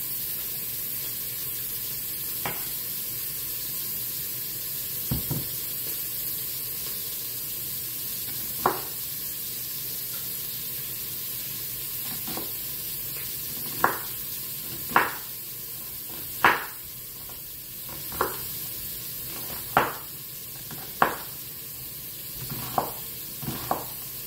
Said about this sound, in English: I'm going to add some butter to this pot to get these onions really nice and caramelized